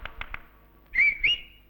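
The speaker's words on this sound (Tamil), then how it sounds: "இப்ப நீ எதுக்குடா விசில் அடிச்ச?" A person whistles a short two-note call after three quick taps, the shrill whistle bright and close, rising at the end, with no talking over it.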